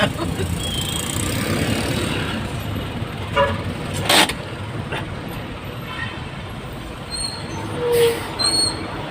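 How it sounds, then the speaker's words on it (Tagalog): Road traffic in the town centre of Santa Maria, Bulacan: a steady rumble of passing cars and buses with brief horn toots and squeals, heard close by. "Traffic tayo, traffic."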